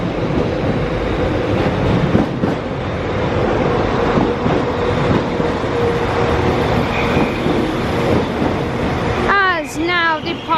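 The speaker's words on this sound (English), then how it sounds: "now coming into the platform is a 195, 195, 113, working terminating at Leeds" A class 195 train pulls into a Leeds platform: a loud, steady rumble with clattering wheels and squealing brake tones, ending in rising and falling high-pitched squeals as it slows.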